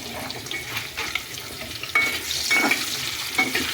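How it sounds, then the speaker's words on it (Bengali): Potato pieces frying in hot oil are stirred in a pan, a steady crackling sizzle broken by several scraping strokes of the spatula and brief metallic clinks, close and moderately loud. "এইটা আমাদের গরম গরম তেলে আলু ভাজা হচ্ছে।"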